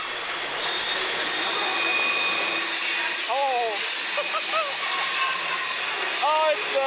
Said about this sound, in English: When this train went by, this is when it started to get interesting.